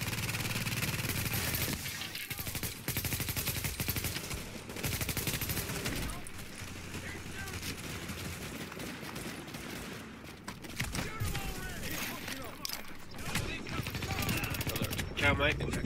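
Sustained bursts of automatic gunfire in the survival mode of The Division rattle loudly and almost continuously, with short pauses, while a player talks over the shooting.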